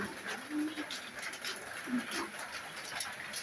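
Soft cooing from a female Budapest racer pigeon among other pigeons, a few low, brief coos over a busy, murmuring background with faint voices.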